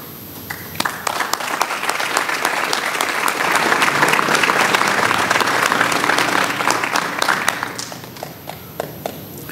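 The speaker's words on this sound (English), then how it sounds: "please stand and be recognized with our applause" A crowd at a high school hall of fame ceremony applauds, with clapping that builds, holds dense and loud for several seconds, then thins out and fades.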